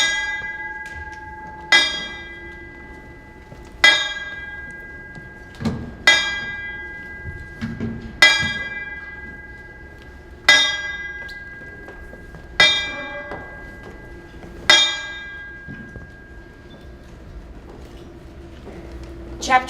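A ship's bell rings eight times, struck in evenly spaced pairs, each clear metallic clang ringing out and fading before the next.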